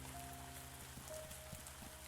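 Steady rain falling in The Spirit & the Mouse, a soft continuous patter of drops on surfaces with faint musical tones threaded underneath, no voices.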